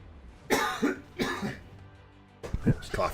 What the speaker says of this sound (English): This cough is nasty.